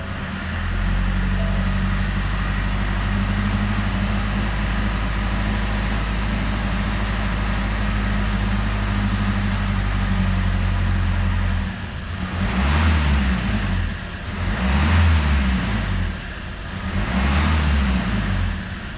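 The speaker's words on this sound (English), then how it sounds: "I'm going to take the revs up a little bit." A 2-litre diesel Ford Mondeo Mk5 engine with 246,000 miles idles with a low, steady rumble, then revs up and down three times in rising and falling surges, loud and close.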